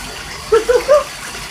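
Water runs steadily into an indoor bathtub being filled for a pet goose, a soft, even gushing hiss, broken by a few short, faint honk-like calls midway.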